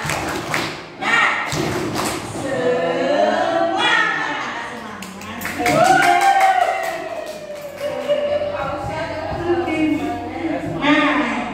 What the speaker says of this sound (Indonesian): Kita tepuk semangat dulu dah.